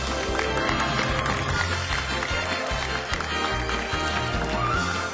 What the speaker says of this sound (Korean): 여러분 다시 한번 축하의 박수 부탁드립니다